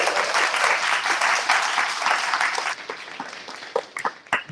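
An audience at a school library opening claps in a dense, sustained round of applause that thins out into a few scattered final claps.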